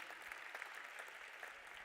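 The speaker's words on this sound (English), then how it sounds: "A big applause for our young challengers." An audience at an opening ceremony claps in steady, dense applause, distant and fairly faint, with no voice over it.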